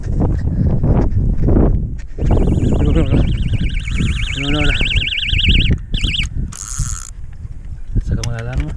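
An electronic bite alarm on a pejerrey and carp fishing trip sounds a loud, rapidly warbling tone for several seconds amid excited shouting and talk from anglers nearby.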